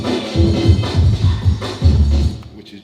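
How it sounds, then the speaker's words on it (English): A hip hop record is sped up on Technics 1210 turntables into a jungle sound, loud and close, with fast, dense bass pulses and a busy rhythm that drops off near the end. "But with the assistance of like Technics 1210s, faders, and new dual speeds, we could get it to sound like this."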